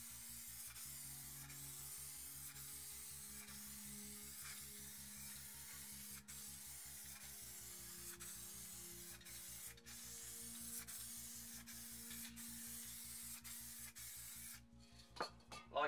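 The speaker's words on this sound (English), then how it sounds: "And then just with a black crackle spray paint, spray it on." Black crackle-effect spray paint hisses from an aerosol can in a steady, continuous spray lasting several seconds, close and fairly quiet, with no voices.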